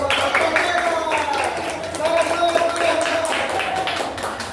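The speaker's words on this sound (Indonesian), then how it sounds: "Tepuk tangan dong" A group of people applauds in a continuous, fairly even wash of hand claps, with voices talking over the clapping the whole time.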